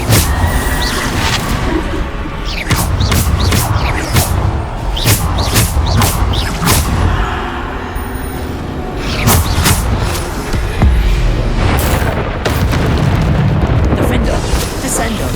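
Spell explosions in the video game Hogwarts Legacy: loud, repeated booming blasts and crashing bursts that come in dense clusters, with voices speaking over the combat.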